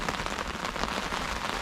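Heavy rain falls steadily on surfaces beside a Fenland drain during pike fishing, a dense, close, unbroken hiss of drops with no voices.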